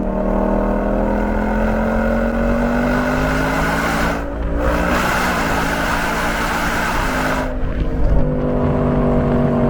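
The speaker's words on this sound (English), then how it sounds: "We got the 2024 Mustang GT. Listen to this." A 2024 Ford Mustang GT engine revs loudly and steadily, rising and falling in pitch with two brief throttle lifts, close by and with no talking.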